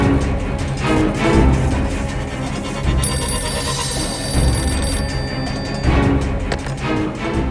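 A telephone rings steadily throughout in a dramatized home scene, its repeated bell trilling loud and close over a busy background of music.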